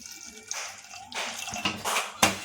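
Water splashes and sloshes in short bursts as soaked kidney beans are rinsed by hand in a bowl, fairly close and moderately loud.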